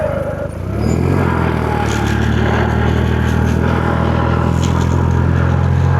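A tractor pulls a plough through a field, preparing soil for corn planting; a loud, steady engine drone holds at an even pitch after a short rise at the start.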